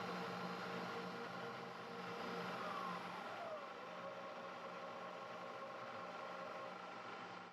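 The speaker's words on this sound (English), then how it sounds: "We'll speed her up again and do the cuts a little higher RPM." A machine cutting a carriage lock part runs at higher RPM with a steady, faint mechanical whine and hum that holds evenly throughout, with no talking.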